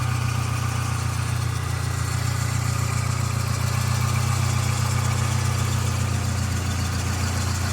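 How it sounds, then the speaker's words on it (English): A 1991 Saab 900 Carlsson engine idles steadily with a low, even drone, joined by the continuous whir of its electric cooling fan running throughout, close and alone with no talk. "Electric fan cuts in as it's doing there"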